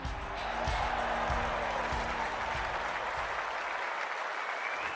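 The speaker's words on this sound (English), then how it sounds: "The crowd already making plenty of noise as the captains come together." Stadium crowd in the AFL 26 video game before a VFL match between Box Hill and Sandringham, a steady, loud roar and applause filling the whole stretch, easing slightly near the end.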